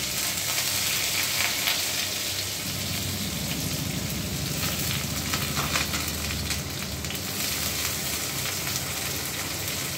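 Onions sizzling and frying in a hot wok over low heat, a loud steady crackling hiss with a stirring scrape partway through.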